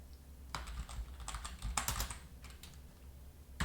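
Keys tapped on a computer keyboard in a short burst of quick, uneven clicks, close and fairly quiet over a low background hum, with no speech.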